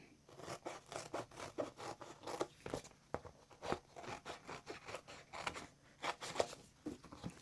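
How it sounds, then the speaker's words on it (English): Scissors or a blade cut through adhesive foam sheet while making a cling cushion for mounting rubber stamps, giving a steady run of close, soft snipping and rubbing strokes with no talk. "I'm going to use it as a guide and go ahead and cut it"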